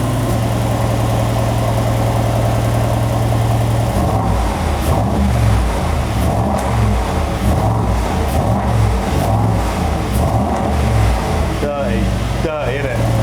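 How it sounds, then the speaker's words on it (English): 2021 Land Rover Defender V8 SUV exhaust, a low steady idle that breaks into deep, loud repeated revs with sharp blips and crackles, a voice briefly audible near the end. "this is the best sounding SUV that we have built"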